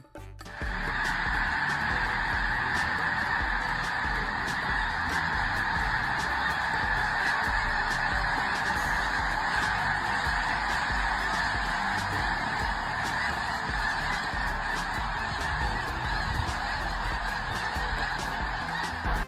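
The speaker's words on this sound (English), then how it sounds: "A massive flock of birds burst from the field" A massive flock of birds bursts from a winter field in a dense, unbroken chorus of goose-like honking that holds steady and loud for the whole stretch.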